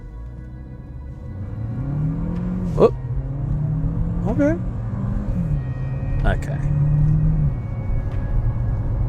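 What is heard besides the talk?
1.3 litre small SUV engine accelerating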